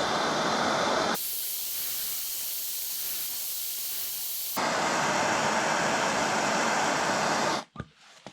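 A torch hisses steadily and loudly while heating around an exhaust stud on a Porsche 996, the roar shifting in tone midway before cutting off abruptly near the end.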